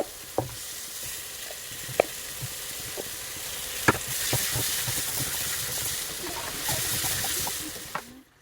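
Local chicken meat sizzles steadily in a pan, with occasional clinks and scrapes of a utensil stirring, close and fairly loud throughout.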